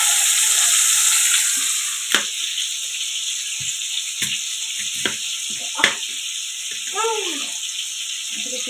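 Tomato dropped into hot oil with sizzling nigella seeds, a steady broad frying hiss throughout with occasional sharp spatters and clinks, and a voice speaking over it.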